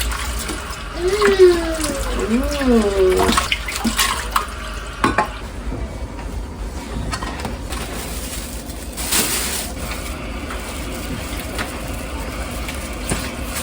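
Running tap water splashes steadily while dishes clink and scrape, with a few brief knocks; a soft hum and faint whistly tones float early on.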